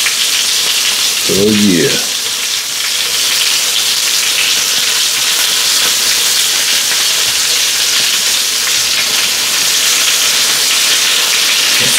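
Salisbury steak patties sear in a hot skillet with a steady, close broadband sizzle running throughout, briefly joined near the start by a short spoken remark.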